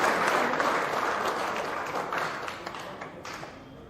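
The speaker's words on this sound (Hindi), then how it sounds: "एक बार तालियों की गड़गड़ाहट से हमारे सभी" A crowd at a Samajwadi Party political rally applauds steadily, a dense wash of clapping that stays loud throughout and tapers slightly toward the end.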